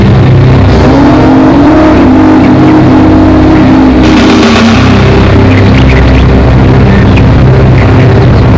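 A car engine drones loud and close for the whole stretch, holding a low rumbling note with a brief rising surge midway, no voices over it.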